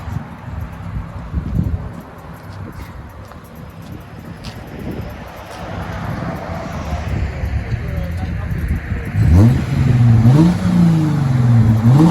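Cabin view of a 2010 Lexus IS 350 V6 with a muffler-delete dual exhaust: a muffled engine drone and rustling at first, then two or three loud revs in the last few seconds.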